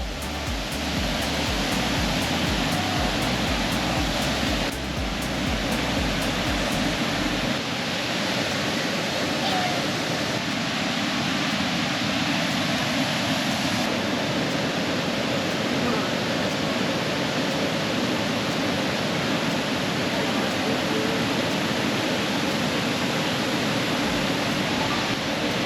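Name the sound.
waterfall roaring, West Virginia's widest waterfall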